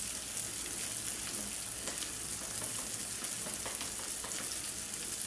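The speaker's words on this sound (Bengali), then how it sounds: "এখন আমি মশলাটার একটু কষায় নিই।" Chicken feet and potatoes frying with ground coriander, cumin and salt in a pan, a steady close sizzle with crackling bursts and occasional stirring, no voices.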